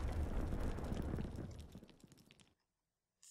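A frag grenade blast in Black Ops III, a heavy rumbling boom that tails off over a couple of seconds into silence, followed by a brief faint click.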